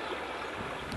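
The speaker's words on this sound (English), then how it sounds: "Just the sounds of gently flowing water" Gently flowing river water on remote public land in Utah: a steady, soft wash of rushing noise, constant and unbroken over a brief moment, with no voices.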